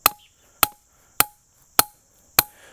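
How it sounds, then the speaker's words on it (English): A trap stake is driven into the ground at the center of a trap bed for a dirt hole set: five sharp, evenly spaced blows with a brief metallic ring, close and loud, with no talk. "And I drive it in the ground right in the center"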